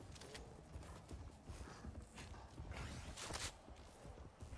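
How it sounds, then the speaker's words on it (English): Horse hooves clip-clop in a quiet, uneven series of soft knocks that grow slightly louder as the horse draws nearer. "There's a horsey coming this way."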